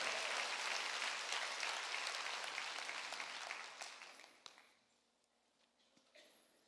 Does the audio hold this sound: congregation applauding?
yes